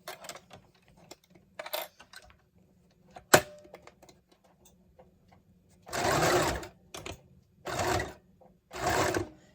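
A sewing machine stitching a face mask runs in three loud, close bursts of rapid needle chatter, each lasting a second or two, after scattered clicks, taps and a sharp knock of handling.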